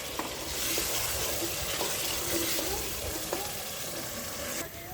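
Green chili paste and masala sizzle and bubble in a pan after a splash of water goes in, a steady close frying hiss with a few light utensil clicks.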